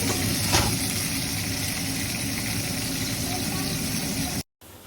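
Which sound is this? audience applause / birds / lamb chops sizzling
lamb chops sizzling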